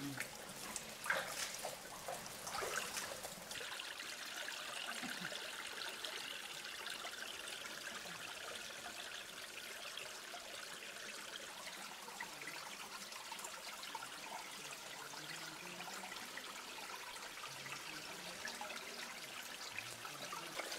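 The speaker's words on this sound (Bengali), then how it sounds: "এই শুধু ঝিরির পানির শব্দ ছাড়া আর কোনো শব্দ এখানে নেই।" A mountain stream runs downhill through Lasubon Canyon in Sreemangal on a winter day, giving a steady, continuous trickling rush with a few brief splashy bursts near the start and no other sounds.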